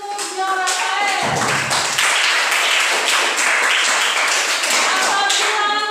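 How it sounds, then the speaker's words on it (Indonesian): A group claps for Jo Rafael, sharp hand claps building into a fuller, steady round of applause that carries on for several seconds, with children's voices calling out over it. "tepuk tangan untuk Jo Rafael"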